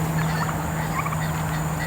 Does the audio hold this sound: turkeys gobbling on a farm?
yes